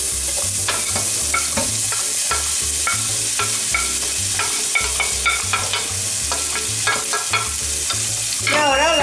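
Onion and chili pepper frying in a pan, a loud, steady sizzle with repeated stirring scrapes, close up and with no voice over it.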